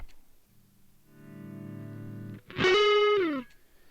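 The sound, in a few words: overdriven guitar through tweed-style pedal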